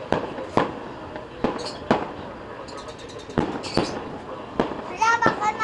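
Fireworks bursting at a fireworks competition by a riverbank in Marikina, a string of sharp separate bangs with crackling tails, some near and loud, with people talking in the background.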